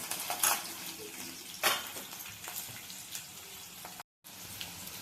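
Green chillies fry in hot oil in a pan for kande pohe, a soft steady sizzle with a few sharp clinks of a utensil against the pan.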